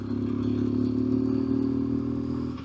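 A BMW motorcycle riding along the Wapadspoort backroad between De Rust and Willowmore, its engine a steady, even drone heard from the rider's position, with faint wind and rattle and no talking.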